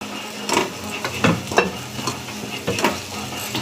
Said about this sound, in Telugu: ఇట్లాగా ఫ్రై చేసుకోవాలి